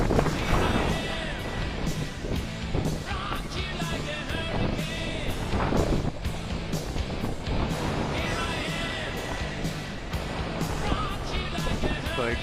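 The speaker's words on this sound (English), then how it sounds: "It's pretty windy." Strong hurricane wind buffets an outdoor microphone with constant loud rumbling and gusting roar, broken by scattered knocks and clatter, with a voice occasionally audible beneath.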